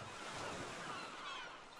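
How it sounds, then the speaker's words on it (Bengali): A waterfall rushes and splashes in the hills, a continuous broad watery roar, soft and steady throughout with no voices. "পাহাড়ে ঝর্ণার ঝরঝর শব্দ"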